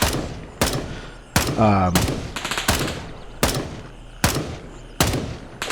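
Rifle fire from a player in a military shooter, sharp loud single shots and short bursts spaced about a second apart, each ringing out with a decaying echo, with someone talking between them.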